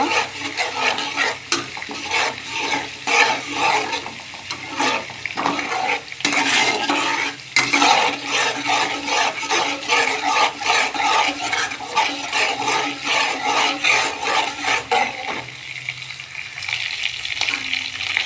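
Spice paste is stir-fried in a pan for a vegetarian Bengali village dish, a dense continuous sizzle broken by repeated scraping and clinking of a spoon against the metal, close and loud with no talking.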